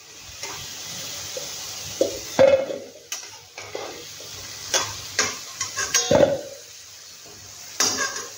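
Eggs frying in a pan during a home cooking session for egg pakora, with intermittent sizzling bursts and scraping stirs against the pan, fairly close and alone.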